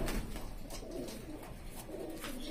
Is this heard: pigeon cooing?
yes